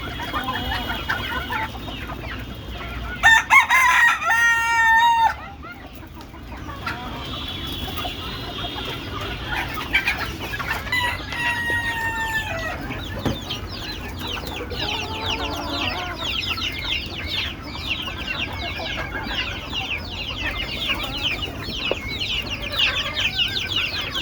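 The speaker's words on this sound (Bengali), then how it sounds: "মুরগি ছাড়তেছে, ছাড়লো।" Domestic chickens clucking as a hen is released from a poultry enclosure, with chicks nearby: loud, close, repeated clucks and cackles in bursts over steady farmyard background, no talk.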